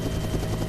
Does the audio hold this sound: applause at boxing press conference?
no